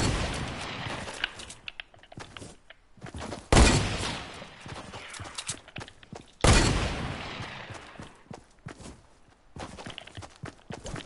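A PS4 shooter game plays bursts of gunfire, with two loud, sharp blasts standing out among rapid, uneven crackling shots and movement noises, and no talking over them.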